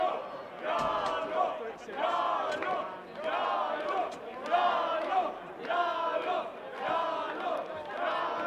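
Finland supporters chanting in rhythmic, repeated bursts at an ice hockey game, loud and crowd-filled, roughly one chant per second over the whole stretch.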